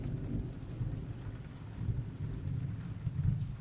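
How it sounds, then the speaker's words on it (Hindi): A thunderstorm with steady rain and strong wind, low thunder rumbling and rolling beneath the constant patter, with no voices. "आसमान में काले बादल घूम रहे थे, तेज हवा चल रही थी, दूर से बिजली की कड़क सुनाई दे रही थी।"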